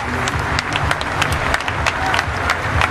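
A cricket crowd at a Test match in Durban applauds Jacques Kallis in his farewell Test against India, dense, sustained clapping from many hands filling the stands at steady volume.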